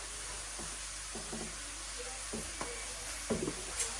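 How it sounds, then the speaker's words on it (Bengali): Vegetables sauté with cumin powder in a pan, making a steady soft sizzle with scattered scraping stirs and small clatters, close by, with no talk. "এখন এই যে ভালোভাবে একটু কষায় নেই"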